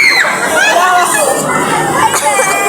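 Shrill, overlapping screams from a group of people on a ride ring out continuously, loud and close, with excited crowd noise throughout.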